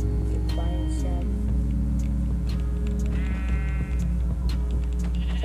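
Sheep in the Minecraft video game give a few short bleats over a loud, steady low hum and background game music, with no speech.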